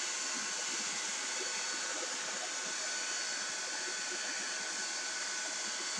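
Hair dryer blowing on a wooden box, a loud steady broadband whoosh close by, running unbroken from start to finish.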